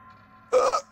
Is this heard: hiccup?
yes